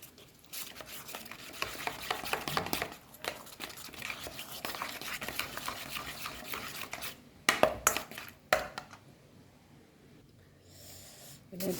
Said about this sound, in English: Around 1 tablespoon of olive oil, and we'll mix this.